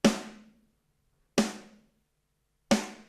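Three isolated hits from the Empty Power drum kit snare sample, evenly spaced about 1.3 seconds apart, each a sharp crack with a short ringing decay into silence.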